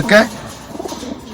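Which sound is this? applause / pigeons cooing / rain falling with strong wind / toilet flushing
pigeons cooing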